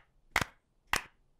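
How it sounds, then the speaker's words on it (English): Two sharp, separate claps about half a second apart from cartoon girls copying a clapping rhythm in a music class, crisp and fairly quiet against near silence. "Madam Gazelle has made the clapping into music"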